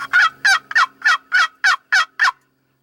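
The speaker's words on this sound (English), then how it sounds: "That old gobbler says, I don't know about this." A wild turkey gobbler gobbles in a rapid series of about eight sharp, rattling notes at an even rhythm, clear and fairly close in quiet woods.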